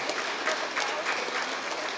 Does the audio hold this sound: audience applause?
yes